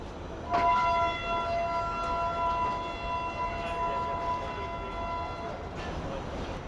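Thar Desert Safari train pulling into platform number 1, its long steady horn tones ringing over a broad rumble of rolling stock and station noise, loud and continuous throughout.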